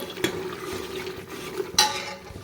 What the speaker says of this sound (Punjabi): ਮੈਂ ਤੜਕੇ ਲਾ ਰਹੀ ਹਾਂ ਸਬਜ਼ੀ ਨੂੰ